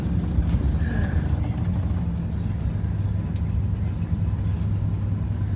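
A heavy Detroit Diesel 8V92TA turbo engine in a Wanderlodge bus with turbo boost issues rumbles steadily with deep low-end drone while driving, continuous and fairly loud with faint passing noise on top.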